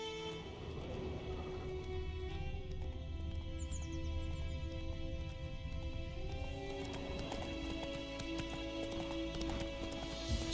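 Horse galloping in The Witcher 3: Wild Hunt, with steady rhythmic hoofbeats over game music and ambience and a short neigh partway through.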